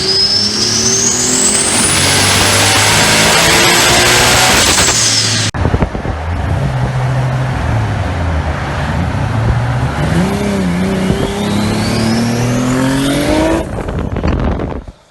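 Toyota Supra with a 2JZ engine under Fueltech VVT-i control revs hard and loud throughout, its rising whines sweeping upward before a brief drop and a second climbing run, with no talking.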